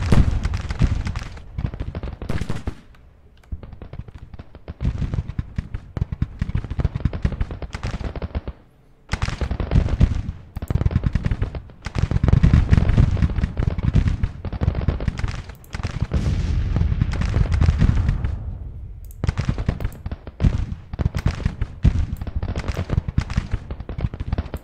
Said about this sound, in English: Still want to keep on firing, obviously, with our artillery